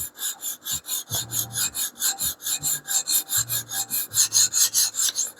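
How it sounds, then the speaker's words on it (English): Rhythmic rasping strokes of a 14C28N steel knife blade on an extra coarse sharpening stone, regular back-and-forth scrapes close up with no voices. "It's the one I'm sharpening right now."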